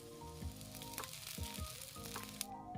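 Wheat flour dosa batter sizzles steadily in oil on a hot pan, a continuous close frying hiss with a few soft tapping knocks at intervals.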